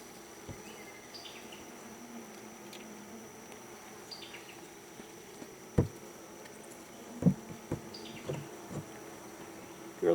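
Honey bees around an open double medium horizontal Langstroth hive, a low steady buzz with faint passing wingbeat whines, plus occasional clicks and knocks of hive parts being handled.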